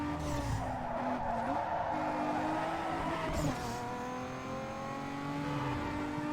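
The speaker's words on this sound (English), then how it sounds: "I got a power slide" A car in Need for Speed Underground 2 slides through a long, squealing power slide, tires screeching in wavering tones over a steady engine roar, with a brief rev near the middle.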